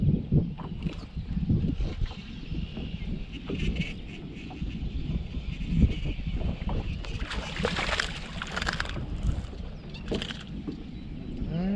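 A trolling motor on a bass fishing boat runs during a jig-only tournament, a steady hum under continuous wind and water noise on the open lake.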